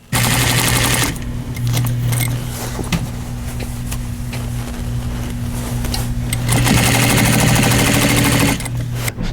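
A sewing machine stitches lining into a pair of jeans, running in fast steady bursts with brief slowdowns, loud and close.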